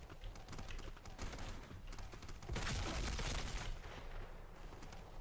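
Rapid bursts of weapon fire in the first-person shooter Black Squad, rattling volleys that keep going with a denser stretch in the middle, heard over game background noise.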